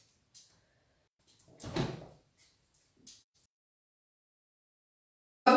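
Door being slowly opened and closed, a few soft clicks and creaks around a louder sliding scrape in the middle, then a small latch sound, sparse and close in a quiet room.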